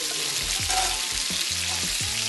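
Whole cinnamon, cardamom and cloves fry in leftover oil with a steady, close hiss, broken by a few soft scraping stirs of a spoon in the pan.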